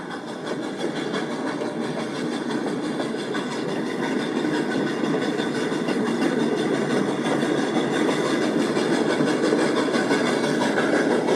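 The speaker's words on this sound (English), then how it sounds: "It's time for this train to leave the station" A train pulls out of a station with a continuous rumbling, clattering roar that holds steady and swells slightly over about eleven seconds, close and loud with no voices.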